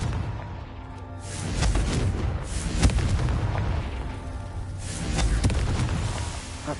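Confringo blast spell in Hogwarts Legacy, a heavy rumbling boom that swells and echoes, with a sharp crack at its peak and a second rolling swell a few seconds later.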